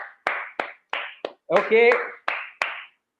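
A few people clap for a school quiz winner, with about eight sharp separate claps spaced out rather than a full ovation. A short spoken word breaks in partway through.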